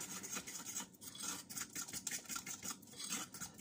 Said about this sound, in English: you can either use a fork just to whisk all that together so there's no lumps